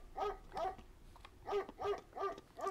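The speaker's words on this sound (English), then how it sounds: "It's a dog." A dog in the video game Paint the Town Red barks in a run of five or six sharp, clear barks with short pauses between them, fairly close and alone.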